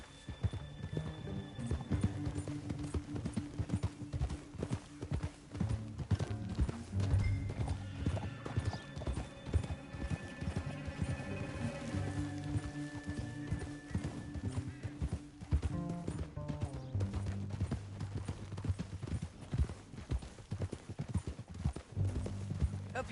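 Horses gallop with steady, loud clip-clop hoofbeats and an occasional whinny in the Red Dead Redemption 2 game, layered over continuous music throughout.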